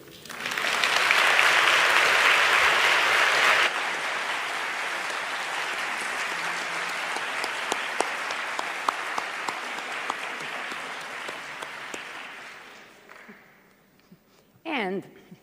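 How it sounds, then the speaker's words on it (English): Sustained audience applause at an academic conference competition final, loud and dense at first, then thinning into scattered claps before fading out; a brief voice rises at the very end. "now I say, please clap"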